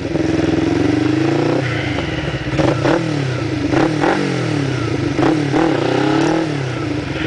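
A motorcycle engine revs hard and repeatedly during wheelie practice, loud and close, rising and falling in pitch with several sharp throttle blips and a clattery idle between them.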